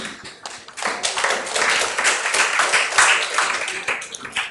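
An audience applauds steadily for Barrister Jumoke Delano as she is invited on stage at a January 2020 power-sector dialogue event; dense, even clapping fills the hall at moderate loudness throughout.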